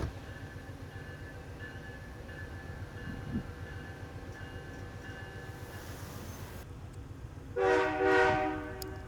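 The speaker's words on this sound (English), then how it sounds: "the Cardinal number 51 is on the move heading westbound" Amtrak Cardinal number 51 passenger train pulling out of a station westbound in West Virginia, a steady low rumble of rolling cars throughout, then a loud horn blast near the end.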